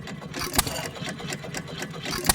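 A Stover hit-and-miss engine runs with a steady chugging pulse, loud and close, punctuated by a couple of sharp louder firing bangs.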